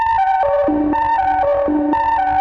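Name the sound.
Serum synthesizer with bright white noise added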